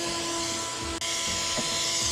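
A shop vac nozzle sucks dirt out of a K&N air filter, a loud, steady high-pitched whine with a brief dip in the middle as the nozzle shifts against the filter.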